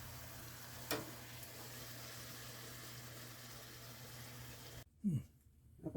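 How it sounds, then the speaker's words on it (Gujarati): Fafda, the gram-flour snack, frying in hot oil as a steady broadband sizzle for about five seconds, then a cut to a much quieter stretch with a brief voice. "આ રીતે બધા ફાફડા આપણે તળી લઈશું"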